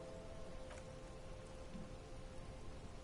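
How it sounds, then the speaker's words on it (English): Steady rain falls in the video game Disco Elysium, a dense, even hiss of drops on surfaces that is faint overall and continuous, with no voices. "She puts her hand in the rain."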